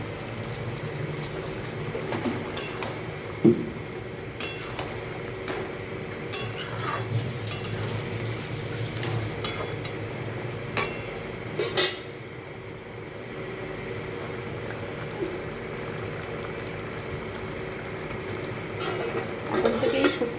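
A pan of shukto, a Bengali mixed vegetable curry, simmering with a steady bubbling hiss while a spoon stirs and clinks against the pan now and then, continuous and close, with no talk.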